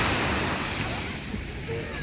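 Rough sea surf breaking steadily at a beach in Tetouan, a continuous broad wash of waves with wind noise on the microphone, close and fairly loud throughout.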